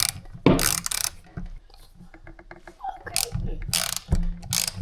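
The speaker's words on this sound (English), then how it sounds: "Screw the other screws." A screwdriver tightens screws on a dead Husqvarna chainsaw, giving quick ratcheting clicks in short bursts between louder handling bumps, close and moderately loud with faint voices at times.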